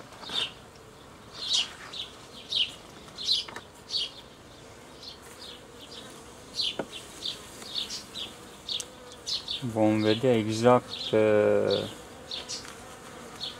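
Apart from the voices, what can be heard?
honeybees buzzing while splitting a colony into a nucleus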